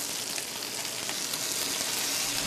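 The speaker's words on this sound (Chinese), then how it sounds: "热油，中火慢煎，直至山坑鱼两面变得焦黄" Mountain stream fish pan-frying over medium heat in hot oil, a steady close hiss and crackle of sizzling that runs evenly throughout with no voices.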